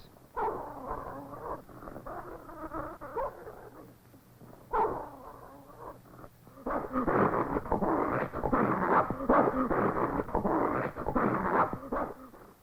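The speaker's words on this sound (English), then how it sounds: "It is Moses's job to feed the dogs. Food is scarce, and they fight over every piece." Eskimo sled dogs fighting over scarce food, a snarling, whimpering scramble of growls and yelps that starts in short bursts and swells into a continuous, loud, close pack scuffle.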